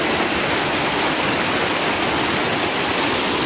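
Water rushes through a small river chute in Quetico Park, a loud, dense, unbroken roar of whitewater filling the whole clip.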